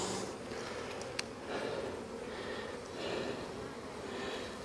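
Honey bees buzz softly over a brood frame from an opened hive, a low continuous hum close by with faint swells and a small sharp tick partway through.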